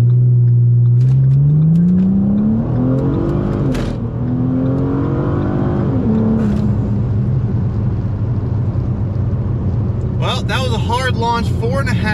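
A 2014 Ford Taurus SHO makes a hard launch from a standstill, its engine roaring loud and close as revs climb steadily through the gears, with brief shift dips and a voice speaking near the end.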